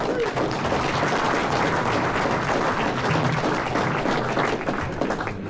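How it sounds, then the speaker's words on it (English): A banquet audience at a chamber of commerce awards dinner applauds in a steady, dense wash of clapping that fills the room for several seconds, with a few voices mixed in. "Let's give a round of applause for Tom."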